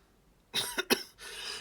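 A couple of quick, sharp coughs up close, followed by a rougher, breathy hack.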